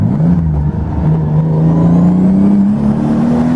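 Turbocharged BMW M46 wagon accelerating hard, its engine note climbing steadily with a faint hiccup like a brief fuel cut, loud and close throughout with no talk.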